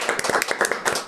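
A short burst of applause from a small studio audience greeting a guest, quick irregular claps with a few louder hits, close and brief.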